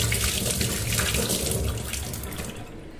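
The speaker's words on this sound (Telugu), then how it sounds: "సో మన గిన్నెలు కడిగిన వెంటనే కొంచెం అలా తిప్పేసుకుంటే నీళ్ళు స్మెల్ లేకుండా వెళ్ళిపోతుంది." Tap water runs into a kitchen sink drain after dishwashing, a steady close rush of splashing water that eases slightly toward the end.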